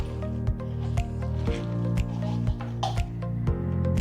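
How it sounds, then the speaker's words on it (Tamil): Vegetable bonda batter is kneaded by hand with water, giving wet, rhythmic squishing slaps about every half second, close and fairly loud, with faint background hum. "கொஞ்சம் கொஞ்சமாக தண்ணி விட்டு இதை பிசைஞ்சுக்கோங்க."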